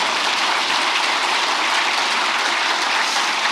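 Dense, sustained applause from a large audience at a senior public officials' workshop lecture fills the hall evenly and loudly for several seconds, with no speech over it.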